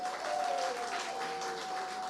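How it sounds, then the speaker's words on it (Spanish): Church congregation clapping for its young people during a Spanish-language service, a short burst of scattered applause with a steady tone sounding faintly beneath it. "Les damos un aplauso a nuestros jóvenes."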